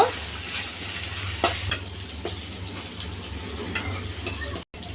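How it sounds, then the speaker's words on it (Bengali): Onion frying with ginger-garlic paste in a pan, a steady sizzle broken by several scraping stirs of a spatula, close and moderately loud, with a brief dropout near the end. "পেঁয়াজের সাথে আদা রসুন বাটা এগুলো দিয়ে দিলাম। এগুলো দিয়ে কাঁচা গন্ধ যাওয়া পর্যন্ত একটু ভেজে নেব।"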